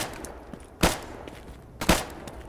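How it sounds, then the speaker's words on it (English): Gunfire in a modded Stalker video game. Two sharp, distant-sounding shots about a second apart stand out against quiet ambient background. "I'm hearing a lot of gunfire, and I don't know where it's coming from"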